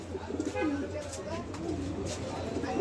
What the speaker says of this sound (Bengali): খুব বিগ সাইজের কবুতর তো ভাই হাতে রাখা যায় না